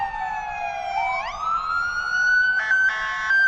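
An ambulance siren wails at a small-town Christmas parade, its tone sweeping upward and then switching to a rapid yelp pattern, loud and close over faint street ambience.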